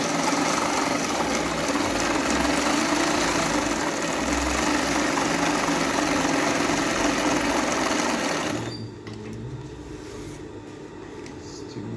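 A Global ZZ-567 zigzag sewing machine stitches faux leather with cotton thread on a four-puncture zigzag, running as a loud, steady mechanical whir for about eight seconds before stopping and leaving quieter background noise.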